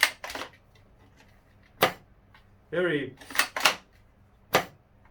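A Galaxy Barrett M82A1 sniper gel blaster by X-Force Tactical, fitted with a 1.1 spring, fires one short, light snap with no heavy thump, surrounded by close speech.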